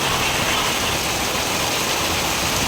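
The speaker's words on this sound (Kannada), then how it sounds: "ಮಳೆ ಬೀಳ್ತಾ ಇದೆ, ಯಾಕೆ ಇಷ್ಟು ಜೋರಾಗಿ ಹರ್ಕೊಂಡು ಹೋಗ್ತಾ ಇದೆ" Heavy rain falling after a sudden downpour, a steady loud hiss of water with no breaks, close and continuous, with no voices over it.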